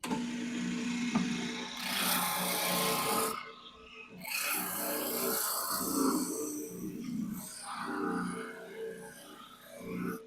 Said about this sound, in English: we're going to sand all the bandsaw marks off the inside here, or I guess the bottom